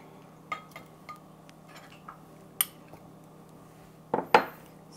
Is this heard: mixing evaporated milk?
yes